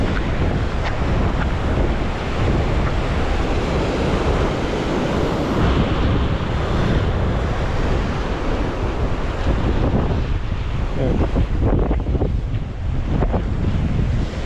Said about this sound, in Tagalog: Grabe kalakas ng alon sa gilid.